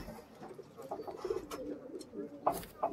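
Pigeons cooing close by in a small group, soft repeated low coos with some wing and body rustling, and faint voices in the background.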